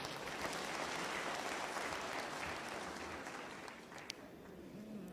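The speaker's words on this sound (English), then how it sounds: "I think they too deserve a big round of applause" A graduation ceremony crowd gives sustained, dense applause in a large hall, a steady wash of many hands clapping at once that eases slightly toward the end.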